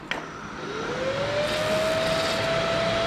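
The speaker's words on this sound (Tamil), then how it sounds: "நீங்கள் வண்டி ஆன் பண்ணோடனே ரேடியேட்டர் மறுபடியும் ஓட ஆரம்பிச்சிருச்சு. ரேடியேட்டர் ஓடுற சவுண்டு நல்லா கேட்கும்னு நினைக்கிறேன்." A radiator cooling fan on a hot Kawasaki ZX-10R motorcycle whirs up after a click, its steady whine rising then holding level, close and continuous over a broad airy rush.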